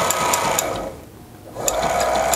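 A walking foot sewing machine stitches leather or heavy material in rapid, loud, close bursts, pausing briefly in the middle for reverse stitching before the fast mechanical clatter resumes.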